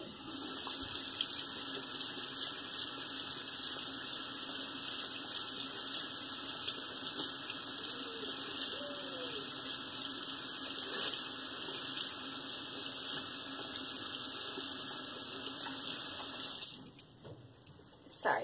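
A tap runs steadily into a sink to wet a makeup sponge, a close, continuous hiss of water that cuts off near the end.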